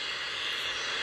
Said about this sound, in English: Right now I'm gonna get the British Airways 757F to pull out.